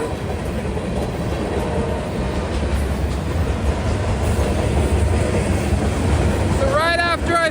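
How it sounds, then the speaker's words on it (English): A train rolls past an old train depot in Matthews, North Carolina, a loud steady rumble with clattering wheels filling the whole stretch, and a horn-like tonal blast near the end. "So right after I finish recording the video, a train drives by"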